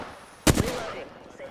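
A sudden loud crack of gunfire in Apex Legends on the Storm Point map, one sharp burst followed by a fading tail and game ambience.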